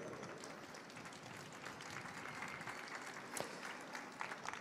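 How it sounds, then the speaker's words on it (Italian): An audience at a political talk event applauds with steady, dense clapping that continues throughout, quiet and distant. "e questo applauso, vedete,"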